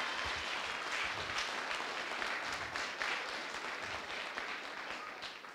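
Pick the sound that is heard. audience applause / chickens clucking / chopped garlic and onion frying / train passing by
audience applause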